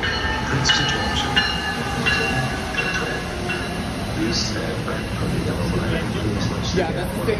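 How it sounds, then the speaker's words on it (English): A New Jersey Transit train pulls into a station, its heavy rolling rumble and wheel noise steady and close, with faint background chatter from the platform. "Now arriving on track 4 is the New Jersey Transit 850 outbound train to Trenton"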